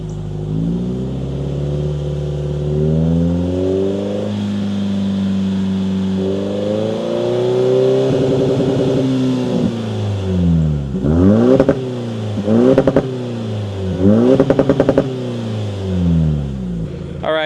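A 2024 Toyota Tacoma four-cylinder with a MagnaFlow exhaust revs up and down repeatedly, loud and close, with the engine note rising and falling and several short sharp blips toward the end.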